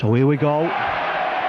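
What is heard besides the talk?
crowd cheering at a rugby league match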